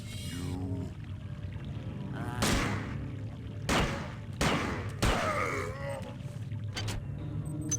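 Gunfire in the video game System Shock 2, several loud booming shots in an irregular sequence over a droning game ambience with low moaning creature sounds.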